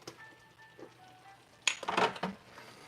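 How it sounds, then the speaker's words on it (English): Peach tarte tatin cooking in a pan, with a quiet low crackle at first and then a louder burst of hissing sizzle and sputtering pops in the last second or so, close by with no talk. "So you can see it's coming along, sizzling, poking away, doing its thing."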